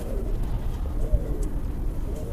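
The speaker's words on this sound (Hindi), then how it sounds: "सफेद कबूतर बैठा है" A white pigeon sitting nearby gives soft low cooing calls, faint against steady background noise.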